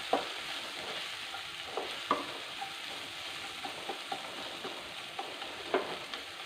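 Tomato and onion sauté in a pan, a quiet, low-level sizzle broken by repeated light spatula taps and scrapes at irregular intervals, close but faint.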